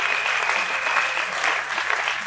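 A church congregation applauding at a sermon, steady dense clapping that fills the room at even loudness throughout, with no speech over it.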